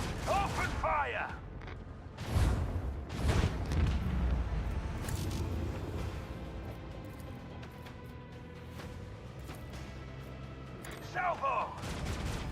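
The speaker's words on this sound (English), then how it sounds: "Macro cannon, open fire!" Macro cannon on a starship firing a salvo in the Rogue Trader space combat game, heavy booming shots and rumbling blasts rolling through a game soundtrack, with brief voice lines at the start and end.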